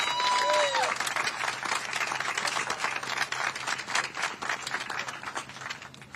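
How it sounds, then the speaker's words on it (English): An audience at an outdoor dedication ceremony applauds a soloist with a dense patter of clapping, along with crowd murmur and a brief tone near the start. "our soloist, a round of applause?"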